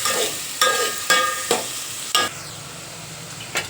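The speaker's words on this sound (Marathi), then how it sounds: "कांदा छान असा गुलाबीसर होईपर्यंत फ्राय करून घेऊया याच्यामध्ये।" Onion frying in a pan for a peas-and-potato curry, a steady close sizzle broken by several sharp clattering stirs of a spoon against the pan, no talking.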